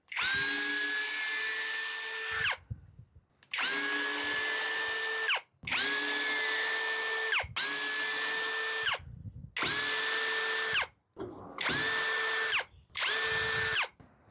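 A Bosch Pro drill driver drives screws into hard peroba wood in a run of roughly seven loud, near bursts, each a steady high whine of a few seconds, separated by brief pauses.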